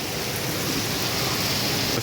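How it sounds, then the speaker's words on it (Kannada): Heavy rain pours down in a continuous, dense hiss that stays loud and unbroken from start to finish, heard close with no voices. "ಫುಲ್ಲು ಜೋರು ಮಳೆ"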